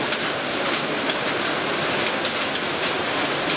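Steady rain pours down in a dense, even hiss with no breaks and no voices, moderately loud throughout.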